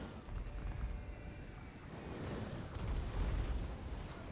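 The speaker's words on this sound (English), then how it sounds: "So artillery's going to take a toll as the Chaos Warriors advance." Artillery fire and explosions in a Total War: Warhammer 2 battle as the Empire's guns shell advancing Chaos Warriors, heard as a continuous low rumbling barrage of booms that swells toward the end.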